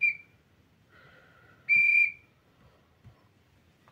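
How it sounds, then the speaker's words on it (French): Rufus, a boy, blowing his whistle in short shrill blasts, one brief toot, a lower softer note, then a louder held blast, close and clear against quiet. "Rufus accourt avec son sifflet."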